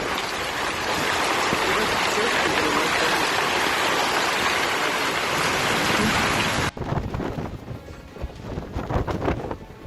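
A dense, steady roar of hail pounding down with thunder rumbling, then an abrupt shift to gusty wind and lighter rain with low rumbles.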